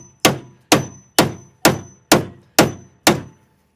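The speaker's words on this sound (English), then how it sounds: "it's hard to hammer and hold y'all." A hammer strikes a part on a white Freightliner truck with a Detroit engine, landing seven sharp, evenly spaced metallic blows about half a second apart, each ringing out briefly, loud and close, with no talking.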